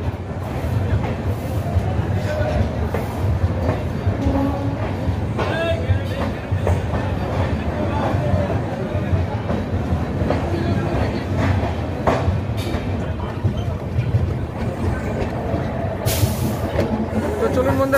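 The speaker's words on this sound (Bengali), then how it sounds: "ধানবাদের 1 নম্বর প্ল্যাটফর্ম থেকে গাড়ি আমাদের ছেড়ে দিল" A passenger train pulls out of platform 1 at Dhanbad station, a steady rumble and rattle of carriages with scattered clacks and squeaks, while voices chatter and vendors call nearby throughout.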